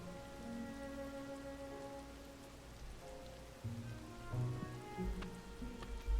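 Rain in The Legend of Zelda: Tears of the Kingdom, a steady soft patter with faint game tones and low rumbles beneath, fairly quiet and continuous with no talking.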